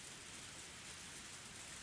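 Rain falls steadily as a soft, even broadband hiss with no distinct drops, faint and continuous, heard alone in the Higurashi When They Cry game.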